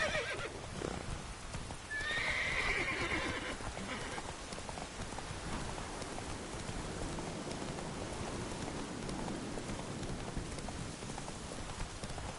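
Geralt's horse Roach in The Witcher 3 gives a loud whinny early on, then gallops with continuous clip-clop hoofbeats amid rain-like ambience, steady and close.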